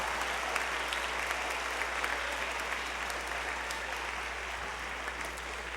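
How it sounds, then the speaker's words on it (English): A school auditorium audience applauds junior high band students at an awards concert, a steady, dense wash of clapping from many hands that holds evenly throughout with no voices over it. "Let's give all of these students a round of applause."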